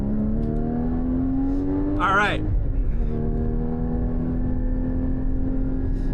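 A 2016 Porsche Cayman GT4 on the move holds a steady, droning engine tone heard from inside the cabin, with a voice briefly speaking and calling out over it midway.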